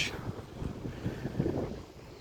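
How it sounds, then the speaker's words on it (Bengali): Cold wind gusts across the microphone on a Thames river boat tour near Canary Wharf, a steady rumbling buffet that stays close and fairly loud throughout, with no talk. "ঠান্ডা বাতাস"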